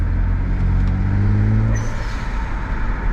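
A car fitted with an H-gas blow-off valve idles with a steady low engine rumble and a brief rise in revs, then lets out one short, sharp hiss of released air close by, with no talking.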